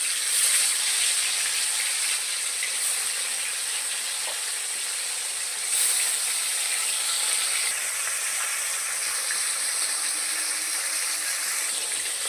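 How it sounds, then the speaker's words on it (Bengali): Snakehead fish fries in hot mustard oil in a wok, giving a loud, continuous close-up sizzle with a bright hiss and occasional spits. It carries on without any voices. "তেল গরম হয়ে গেলে এবার একে একে মাছগুলোকে দিয়ে দেবো।"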